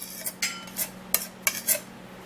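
A utensil scrapes and taps against a bowl while blended homemade face-mask paste is transferred into it: a handful of light, close clinks spaced irregularly over a couple of seconds, with no voices.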